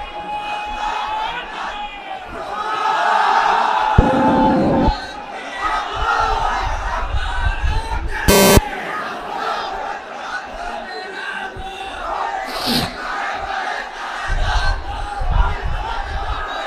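A large crowd at an Islamic waz sermon in Lalmonirhat shouts the takbir in loud, repeated bursts of massed voices that rise and fall in answer to a leader.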